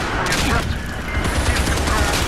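Rapid explosive frag rounds fired in Battlefield 4, a loud, dense barrage of blasts and crackling gunfire filling the whole moment with little pause.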